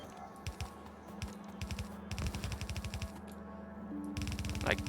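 Automated turrets in a factory-building video game rattle off rapid bursts at attacking biters, volleys of quick repeated shots layered over a steady mechanical hum, loud and near, with brief pauses between clusters of fire.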